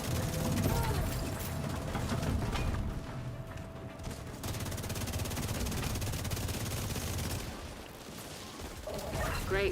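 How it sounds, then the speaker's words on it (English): Video game gunfire rattles in fast automatic bursts as targets are shot, near and steady across the stretch, with a voice talking over it. "now we have to actually shoot them"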